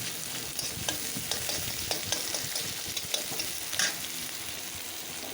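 Green chillies and onion fry gently in a pan with a soft, low crackling sizzle, broken by light scrapes and taps of stirring, fairly quiet and close.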